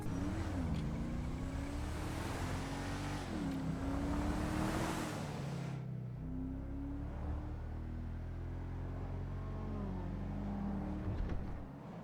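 An armored Enus Cognoscenti 55 engine in GTA Online hums steadily from inside the cabin, with low rumbling tones rising and falling as it accelerates, continuous and fairly muffled throughout.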